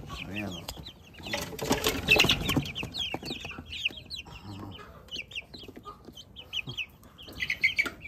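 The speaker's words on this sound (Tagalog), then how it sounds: "Yan po yung ating manok." A flock of 32-day-old chickens, just let out of a basket, clucks steadily at close range with scattered sharper calls, while people talk over the birds.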